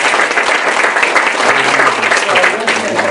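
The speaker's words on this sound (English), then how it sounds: "So I want to give him a round of applause." Steady, dense audience applause at a diversity program event, loud and even throughout, with a low murmur of a voice underneath.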